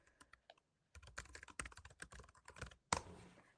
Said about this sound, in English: I'm just going to type this in here.